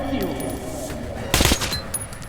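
A sharp sniper shot rings out in the distance in Metro: Last Light, a brief crack and echoing tail over low ambient rumble, with a voice talking.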